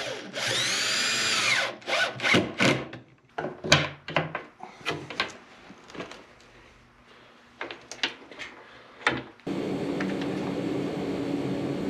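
Milwaukee M18 cordless drill driving screws to fit a latch on a wooden hay feeder door: a high whine at the start, then a series of short bursts and brief whirs, ending in a steady drone.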